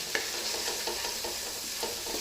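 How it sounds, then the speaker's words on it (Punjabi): Tadka masala roasting in a pan with a spoonful or two of water added, giving a steady close sizzle broken by short stirring scrapes, with no talking. "ਫਿਰ ਦੇਖਿਓ ਤੜਕਾ ਕਿੰਨਾ ਵਧੀਆ ਭੁੱਜਦਾ ਹੈ"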